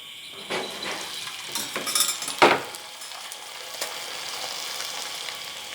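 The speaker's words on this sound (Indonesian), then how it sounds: "Menggoreng opak" Steady sizzling of opak crackers frying in hot oil, with a brief louder crackle and stir midway, continuing as a soft hiss with no talking.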